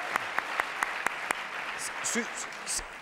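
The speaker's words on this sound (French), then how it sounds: "Applaudissements pour cette demoiselle et pour Jean" Studio audience applause on a French television variety show, a steady dense patter of clapping at moderate level with a few sharper claps near the start and faint voices and brief tones emerging toward the end.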